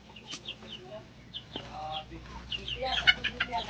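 Ducks quack and cluck in a busy, close cluster of short calls at a rural home, with people talking faintly in the background.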